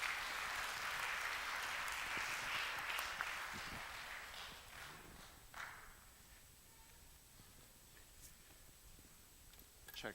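A church congregation applauds to welcome a visiting pastor, the clapping moderately distant and fading out over the first half, leaving quiet room tone with a few faint ticks.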